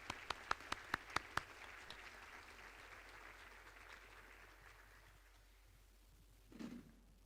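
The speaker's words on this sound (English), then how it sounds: "Let's give this group a round of applause." An audience at a school recognition-of-excellence ceremony gives a soft, diffuse round of applause that fades out gradually, with a few sharp isolated claps near the start and a brief thump near the end.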